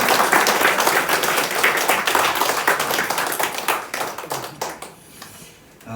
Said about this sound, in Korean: 건강하시라고 한번 박수하겠습니다.